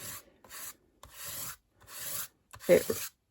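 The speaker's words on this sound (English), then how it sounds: "all I'm doing is taking this and I'm just rubbing it across" Soft pastel rubbed across a stamped birthday card in four close, dry rasping strokes, each about half a second with short pauses, the last one firmer and louder.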